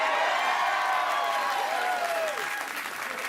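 Sustained studio audience applause on a late-night talk show as a comedy icon guest, Carol Burnett, is welcomed; dense, even clapping fills the room and eases slightly toward the end.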